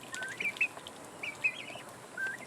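Young chickens on a homestead, some of them turning out to be roosters, make a few high chirping clucks in scattered short bursts, faint against a quiet background.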